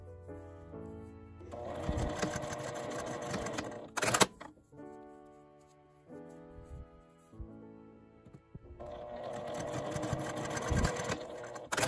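Sewing machine stitching the ends of an L-shaped zipper wallet with a 5 mm seam allowance, two runs of rapid close stitching separated by quieter handling and clicks.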